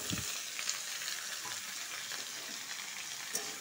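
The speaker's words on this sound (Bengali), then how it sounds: "এখন মিষ্টি কুমড়াগুলো ঢেলে দিব," Pumpkin pieces tipped into hot oil for a vegetarian spiced yogurt pumpkin dish sizzle steadily, a bright frying hiss with a soft thud as they land, no voices.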